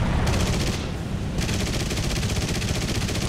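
Rapid automatic gunfire from the guns of a Russian PT boat in a naval combat video game, a dense continuous rattle of shots with overlapping bursts, loud and close throughout.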